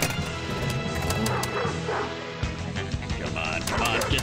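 Dog barking from a Pinball FX3 video game table, short yips mixed with clattering pinball mechanisms and game effects, steady and close, with someone talking over it.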